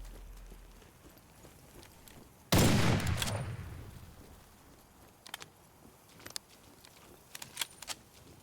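A heavy artillery blast in a monster-filled horror video game erupts loud and close, decaying over about two seconds, followed by scattered sharp shots and clicks in the quieter background.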